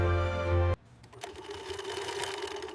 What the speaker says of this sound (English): I will sew the first sample myself.